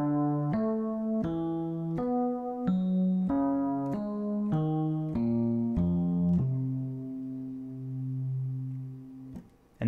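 Chords played through a descending-fourth root cycle across all 12 keys, a run of sustained synth-like tones, each chord struck in steady succession and the last one held, clear and close with no talk.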